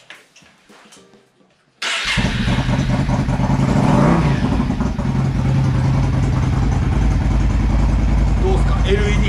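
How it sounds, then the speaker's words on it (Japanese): A fully customized Yamaha DragStar 400 motorcycle with air suspension starts after a short quiet stretch with faint talk, then settles into a loud, steady, throbbing idle close by, with a brief rev partway through. "次にですね、この車両のエンジンをかけてみたいなと思います。"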